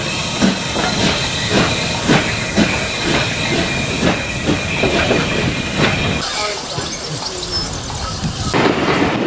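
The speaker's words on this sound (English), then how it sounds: "With the amount of steam that they're letting off, I think the fireman's working a bit too hard." A heritage steam locomotive on the Churnet Valley Railway vents steam in a loud, continuous hiss that fills the scene, with rhythmic chuffing and wagon clatter underneath.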